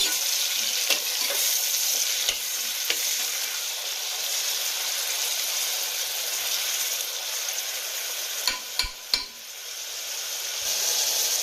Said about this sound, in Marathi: कांदा आणि टोमॅटो आपलं चांगलं तेलामध्ये फ्राय झालेलं आहे